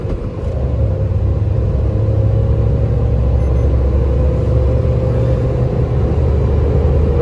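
An Alto 800 car drives on a highway during a braking test from 100. Inside the car, a loud, constant low rumble of road and engine noise runs throughout, with no talking.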